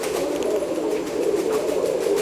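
Fancy pigeons such as capuchins and Chinese owls cooing together in a dense, continuous low murmur of overlapping coos, close and steady, with no talk.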